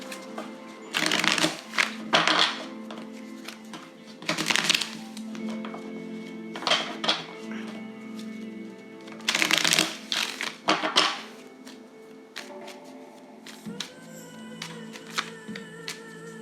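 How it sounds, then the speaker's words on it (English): Tarot cards shuffled by hand in bursts of riffling and soft slaps, several separate rounds with quiet pauses and light taps between them, close and fairly clear. "so you saw me shuffle"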